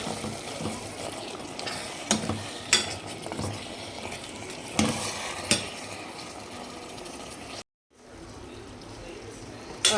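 Mutton and peas being stirred and fried in a pressure cooker for a curry, a continuous low sizzle broken by sharp scrapes and clinks of a spoon against metal, with a brief silent gap near the end.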